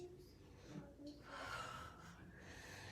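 Deep, audible breaths during a home strength workout, close and soft, with heavy inhales and exhales drawn in slow succession and a faint background hum.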